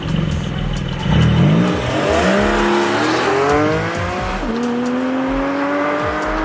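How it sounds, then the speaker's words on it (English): A 2021 Porsche 718 Spyder's high-revving flat-six engine with PDK gearbox revs hard and climbs through the gears, its rising mechanical whine loud and close with no voices. "This is a high revving flat 6 engine"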